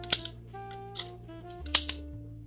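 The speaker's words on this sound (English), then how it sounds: "So it's got this really cool clicky filter selector." Clicking filter selector wheel on a Minolta Rokkor lens, turned by hand, giving a few sharp, close clicks spaced irregularly across a quiet background.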